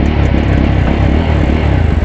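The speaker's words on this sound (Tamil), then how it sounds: "எக்ஸாஸ்ட் நோட் கேளுங்க," A Yezdi Roadster motorcycle's exhaust is heard up close as a loud, steady, deep rumbling idle with a rapid throbbing pulse and no voices.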